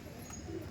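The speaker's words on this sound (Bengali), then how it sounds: "কালাঙ্কা পায়রা।" Kalanka pigeon at a loft gives a short, low coo, fairly close and steady against a faint background.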